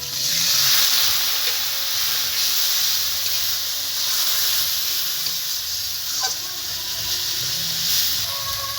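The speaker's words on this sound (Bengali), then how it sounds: "সামান্য একটু জল দিয়ে দেবো।" Water poured into spice masala frying in a pan with turmeric and coriander powder, giving a loud steady steam hiss and sizzle that holds throughout, close by, with no voices.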